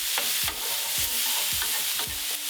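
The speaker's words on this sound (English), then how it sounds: "we're just going to add a tiny drop of water, just so any of them caramelised bits on the bottom of the pan" Vegetables sizzle loudly in a pan as a small splash of water goes in. A steady bright hiss is broken by rhythmic scraping stirs about every half second, with no voices.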